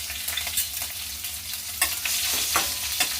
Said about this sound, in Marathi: हिरव्या मिरचीला परतून घेऊ